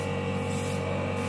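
An airbrush sprays paint in a continuous, even, close hiss with a faint mechanical hum, unbroken throughout.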